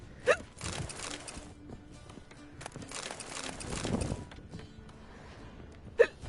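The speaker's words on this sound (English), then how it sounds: "I do have the hiccups" Two sharp, abrupt hiccups several seconds apart, close and fairly loud, with quieter background sounds from a Witcher 3 game session in between.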